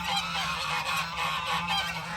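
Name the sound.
geese honking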